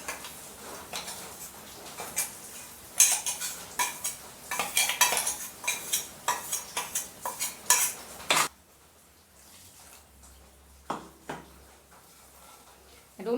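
A spoon clanks and scrapes against a metal pot while ground coconut varutharacha masala paste is stirred into a Kerala crab curry (njandu masala). The clattering stirring is close and busy, then gives way to a quieter stretch with a few soft knocks.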